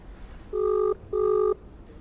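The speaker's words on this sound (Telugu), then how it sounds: "రాజ్ తరుణ్ వాళ్ళ నాన్నగారి ఫోన్ రింగ్ అవుతోంది" A phone rings back twice, two evenly spaced tonal bursts of equal length, clear and moderately loud over a quiet background.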